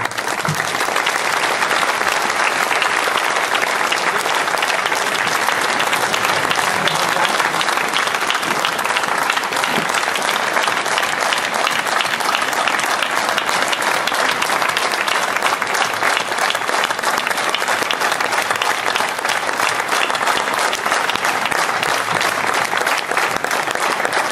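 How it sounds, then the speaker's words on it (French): Sustained loud applause from a large audience at a French political party's summer university rally, dense and steady for the whole stretch with no speech over it. "je vous propose donc de les applaudir fortement et chaleureusement"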